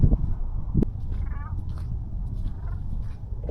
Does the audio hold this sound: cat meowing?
yes